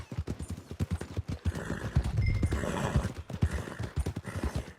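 A horse in the Western game Red Dead Redemption 2 clip-clops steadily on its hooves and lets out a loud whinny midway, with continuous game ambience underneath and no speech.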